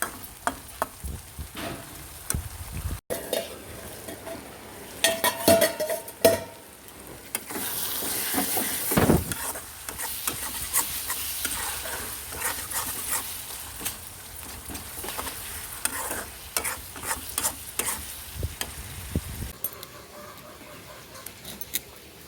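Tomatoes being stirred in a frying pan with a spatula, giving irregular scraping and clicking strokes over a steady low sizzle, close and moderately loud, with no talking.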